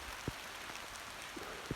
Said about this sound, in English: It's raining. The sun was just out. Now it's raining.